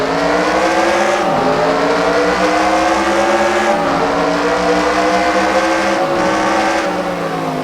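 A race car engine drones loud and close at Thompson Speedway, holding a steady high whine with brief dips and recoveries in pitch as it lifts and accelerates through the turns.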